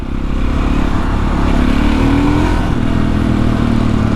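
A Husqvarna SMS630 supermoto single-cylinder motorcycle engine runs loud and close for about four seconds, holding a steady throaty drone with slight revving swells and no talk over it.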